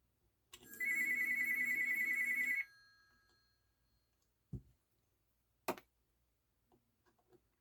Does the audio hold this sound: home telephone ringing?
yes